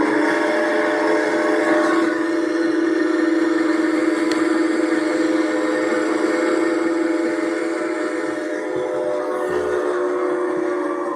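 A steam train whistle blows loud and sustained as a layered, chord-like tone that holds for about eleven seconds with little change. No one speaks.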